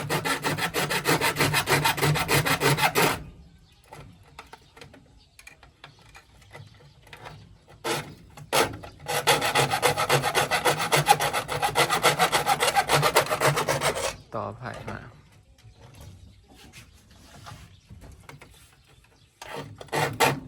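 Repeated back-and-forth sawing through wood in two long bursts, close and loud, with quieter scraping and pauses between.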